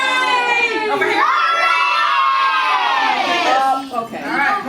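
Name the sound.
children cheering hooray together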